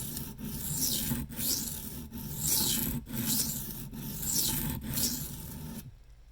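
A 1095 high-carbon steel knife blade, an Old Timer Bruin, is sharpened freehand on a stone in a steady rhythm of about six long, close rasping strokes, each briefly interrupted between passes, with no talking.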